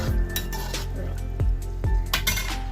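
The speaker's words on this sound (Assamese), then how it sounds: "অকণমান সময় লৰাই দিব।" A spoon scraping and knocking against a pot while stirring mutton curry with raw papaya, several rhythmic metallic clinks and scrapes over a soft simmering sizzle, close and with no speech.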